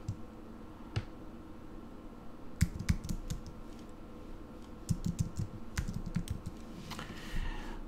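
Typing on a computer keyboard while writing a task in the Asana app, bursts of close, crisp key clicks in irregular clusters separated by pauses, with no talk.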